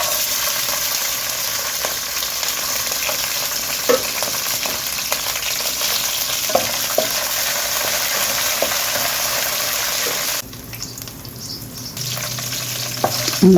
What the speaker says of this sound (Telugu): ఈ పప్పులు అవి బాగా వేగిపోయాయి.